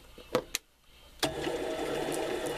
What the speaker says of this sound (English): let's do some turning on the lathe today